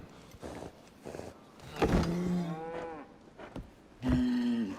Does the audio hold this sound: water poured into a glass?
no